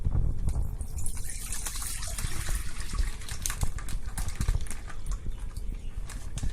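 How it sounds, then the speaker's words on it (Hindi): Milk pours into a pan already holding a little desi ghee while cooking milk cake, giving a continuous close splashing gush of liquid throughout, with no talking. "देख लीजिए, मैंने थोड़ा डाला है देसी घी और अब हम दूध डाल देंगे।"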